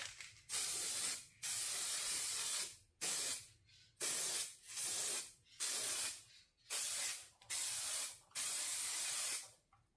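Repeated hissing bursts of aerosol spray as Expert Color Match primer paint goes onto a car bumper, about eight close, evenly timed blasts of a second or so each with short pauses between, and no talk.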